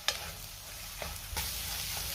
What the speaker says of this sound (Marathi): 2 ते 3 मिनिटं आपल्याला हे वाटण चांगलं परतून घ्यायचे